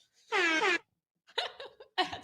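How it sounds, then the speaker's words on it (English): A short air horn sound effect blasts once, loud and brassy, followed by brief bursts of voice or laughter. "I had to do air horns and explosions for that one"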